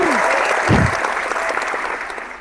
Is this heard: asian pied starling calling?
no